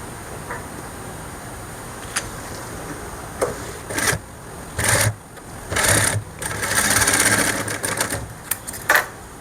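A sewing machine stitches shirt fabric in several short bursts of varying length, with quiet pauses between runs as the cloth is turned, near and fairly loud over a soft room hiss.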